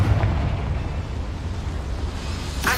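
A Confringo fire spell in Hogwarts Legacy goes off in a mine with a deep, rumbling explosion that opens with a heavy boom, fades into a sustained roar and ends with a sharp crack.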